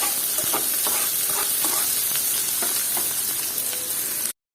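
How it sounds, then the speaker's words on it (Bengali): Chopped onions fry in hot oil in a pan, a steady close sizzle broken by scraping stirs of a spoon, ending in a short silence. "আর পেঁয়াজটা এখন হালকা ব্রাউন করে নিব।"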